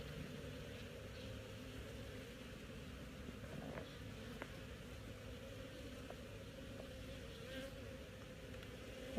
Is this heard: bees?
yes